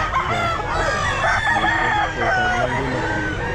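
A rooster crows at a pet market in SBR grotto, with drawn-out calls and clucking from nearby fowl rising over a busy, noisy background with faint voices.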